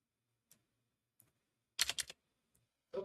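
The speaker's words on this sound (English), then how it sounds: "What are you typing in here?" Someone types on a computer keyboard in a few sparse, quiet clicks, then a short burst of louder keystrokes, close by in a quiet room.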